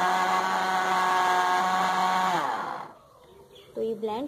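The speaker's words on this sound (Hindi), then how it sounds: "दूध ऐड कर दिया, दोबारा से इसको ब्लेंड कर लेंगे।" An electric blender whirs steadily as it blends a milkshake with added milk, then its motor winds down and stops, followed by a brief renewed mechanical sound near the end.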